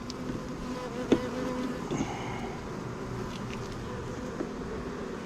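Honeybees in an open hive during a varroa mite treatment, a dense steady buzzing drone close by with a few brief knocks, no voices.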